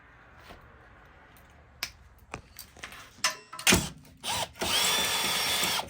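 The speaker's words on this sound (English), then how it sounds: "so you can drill a hole." Several short taps and clicks lead into a power drill whirring up, stopping and starting a couple of times, then running steadily close by, drilling a hole while installing an intercooler on a BMW 335d.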